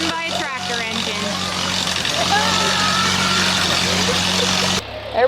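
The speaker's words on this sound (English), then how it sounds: "So classic, it's run by a tractor engine." A tractor engine powers the Classic Flyers ride at Knoebels amusement park, giving a steady low idling drone that runs throughout beneath voices and crowd noise, then cuts off abruptly near the end.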